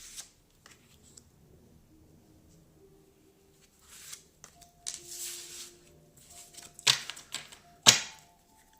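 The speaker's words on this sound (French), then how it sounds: "Je vais tirer 3 cartes." Tarot cards are drawn and laid down, with soft papery shuffles and flicks followed by a few sharper card snaps near the end, close and quiet, with no talking.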